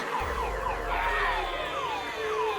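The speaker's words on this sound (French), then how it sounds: "Jeanne a croisé les fils d'alarme de la voiture" A car alarm wails nearby, its tone sweeping repeatedly up and down in a steady electronic pattern beneath a low engine-like rumble.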